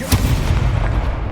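A Confringo explosive spell cast in the Hogwarts Legacy video game, one sharp loud blast with a brief crackling burst and rumbling tail, heard close and alone.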